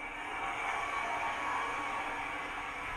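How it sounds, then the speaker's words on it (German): Running sound from a PIKO TT-scale model of a class 55.1 steam locomotive: a steady, even hiss of simulated steam with a faint low rumble underneath, continuous and unchanging throughout. "F1, Fahrgeräusch."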